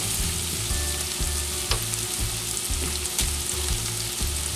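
Butter melting with sausage in a skillet for Southern sausage gravy: a continuous, close, crackling sizzle runs throughout with no talking.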